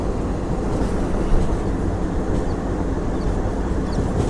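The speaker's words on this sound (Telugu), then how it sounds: "చూడండి మన ట్రైన్ బ్యూటిఫుల్ కర్వ్ అయితే కొడుతుంది" A DEMU passenger train on the Nandyal to Tirupati line rumbles along loudly and steadily, a close, continuous clatter and roar with no talking.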